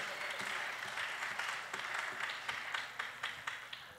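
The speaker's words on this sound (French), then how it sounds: "Applaudissez un peu pour la gloire de Dieu" A church congregation at an evening worship service claps, a dense wash of applause that thins toward the end into distinct, separate claps, heard at a distance and fairly quiet.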